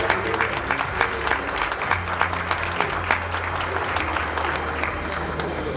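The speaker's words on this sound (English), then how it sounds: "Let's give them another round of applause" A school audience at an MLK Day event applauds steadily, a sustained patter of many hands clapping that fills the room, with a low hum beneath it.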